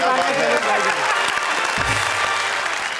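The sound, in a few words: audience applause at comedy poetry show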